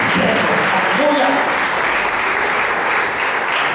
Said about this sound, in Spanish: Te dice aplauso al Padre eterno